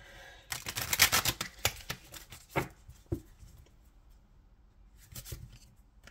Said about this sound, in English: Just gonna shuffle these up a little more.